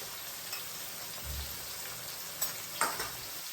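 Onions fry in a pan with salt, curry leaves and turmeric for a fish curry, giving a steady soft sizzle, fairly quiet and close, with a few brief stirring clinks.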